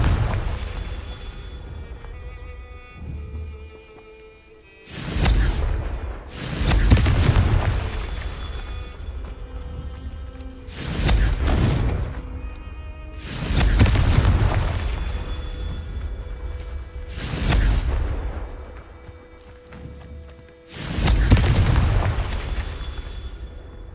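Repeated Confringo blasting spells in Hogwarts Legacy, five or six loud booming explosions spaced a few seconds apart, each a sharp burst trailing into a rumbling decay over a low background hum.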